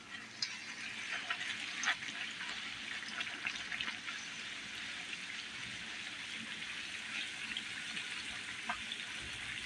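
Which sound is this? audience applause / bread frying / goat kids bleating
bread frying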